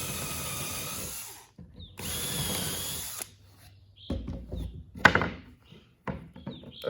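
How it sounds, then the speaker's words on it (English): A power drill deepens screw holes while a hand saw guide is being made. It comes as two loud whirring bursts, followed by several close knocks and clunks, with no one talking. "then drill them just a tiny bit more deeper."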